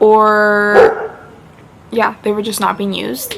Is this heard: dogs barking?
yes